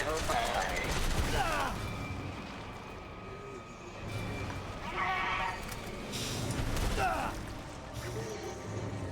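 Gunshots in the Resident Evil 7 game, a few muffled bursts sitting inside a busy, noisy game soundscape, fairly quiet overall with a speaking voice present.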